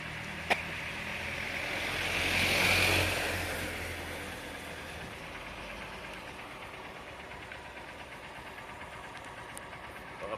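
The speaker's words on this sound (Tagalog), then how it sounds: "Inaandar ko yung makina ng motor ko" A motorcycle engine idles steadily with a low, even rumble, swelling briefly early on before settling into a constant drone.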